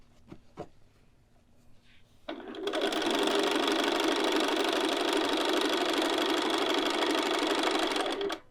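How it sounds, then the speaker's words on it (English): A sewing machine stitches along both sides of the center-front seam line of a neckline, starting after a couple of soft clicks and then running as a steady, fast, close mechanical whir for several seconds before stopping. "I'm just gonna sew on either side of the seam line at the center front"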